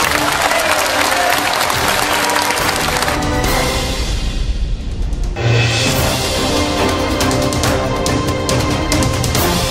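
An audience applauds anti-corruption prosecutor Pérez at a public event, a loud sustained wave of clapping with cheering that dips briefly midway, then swells again and continues.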